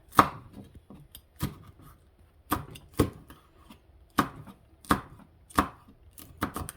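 Green chili peppers chopped with a knife on a cutting board in a home kitchen, a series of sharp, close knocks at an uneven rhythm, about a dozen strikes, with no talking.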